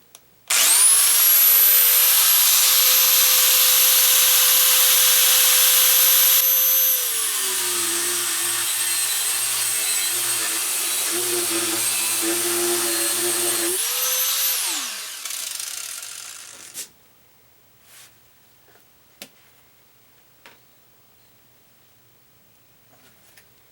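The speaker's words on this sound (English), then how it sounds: "that guides your saw, your cutoff wheel" A saw fitted with a cutoff wheel and guided by an old roller blade wheel screams at high pitch while cutting key slots. The whine bogs down under load midway, then revs up and winds down, leaving scattered faint clicks and taps.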